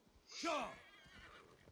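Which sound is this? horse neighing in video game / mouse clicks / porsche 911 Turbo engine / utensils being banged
horse neighing in video game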